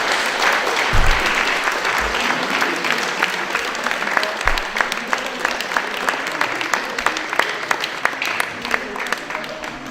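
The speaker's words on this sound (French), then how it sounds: "d'applaudir le Président et toute l'association qui est à ses côtés" An audience applauds the president of an association at a celebration, sustained clapping from many hands with a few sharper individual claps standing out, some voices murmuring underneath, and occasional low thumps.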